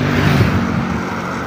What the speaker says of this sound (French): Je patiente à ce que les véhicules puissent passer